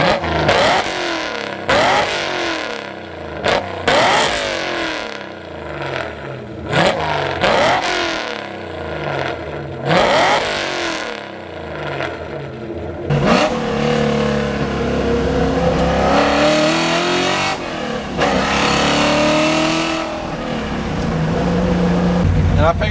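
A built Ford 302 V8 rated to 6,500 rpm runs loud and near, blipped through a series of sharp revs that fall back to a rough idle, then held at sustained higher revs.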